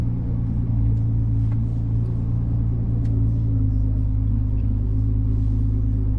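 A 2024 Ferrari 296 GTB driving, heard from inside the cabin as a steady low engine rumble and drone at constant load, loud and continuous with no talking.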